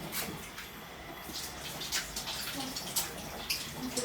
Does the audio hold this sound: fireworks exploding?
no